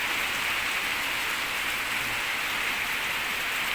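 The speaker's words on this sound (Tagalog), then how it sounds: "Ulan na." Steady rain falls early in the afternoon with no wind, a dense, even hiss of drops on surfaces filling the whole stretch without pause.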